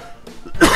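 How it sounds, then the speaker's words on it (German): A short, harsh cough bursts out near the microphone at the end of a brief pause, with a throaty rasp just before it. "ich habe gleich einen Hustenreiz"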